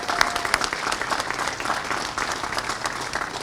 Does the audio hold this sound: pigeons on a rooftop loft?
no